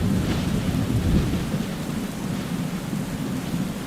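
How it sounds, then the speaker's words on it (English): A video game thunderstorm with deep rolling thunder over steady rain that hisses without pause for about four seconds, loud and close, with no voices. "this metal square does get hit by lightning"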